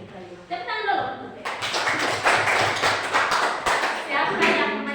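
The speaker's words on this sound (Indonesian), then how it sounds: "Tepuk dulu." Children in a classroom clap their hands together in a rhythmic class clap, a dense burst of close claps with voices mixed in.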